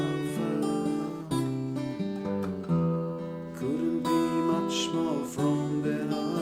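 A guitar plays the slow, gentle last verse of a song in picked notes and chords, clear and close with no singing.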